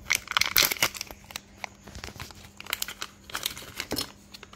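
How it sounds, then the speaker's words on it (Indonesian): Plastic packaging around a GPS module being torn open by hand, with a loud crinkling rip at first, then softer irregular crackles and rustles, close up with no talk. "Sebentar saya robek dulu."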